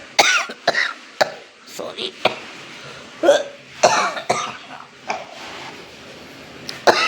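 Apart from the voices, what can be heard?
coughing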